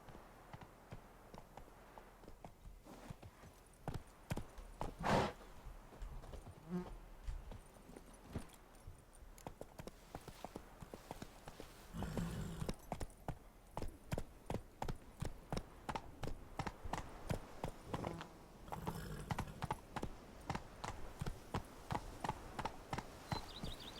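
Roach the horse from The Witcher 3: Wild Hunt walks with steady, crisp hoof clip-clops, faint at first, then a quickening, regular clatter of hooves over a quiet game soundscape.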